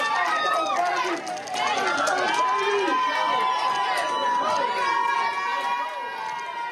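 Members of a college basketball team cheer and shout together in a loud, dense burst of crowd noise as they learn of their March Madness selection, with excited voices overlapping throughout.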